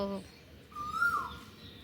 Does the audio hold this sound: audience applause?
no